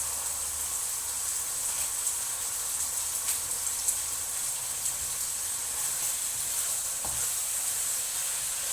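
Chicken with beans sizzling and frying in a pan while being stirred, a steady close hiss with occasional scraping, no talking.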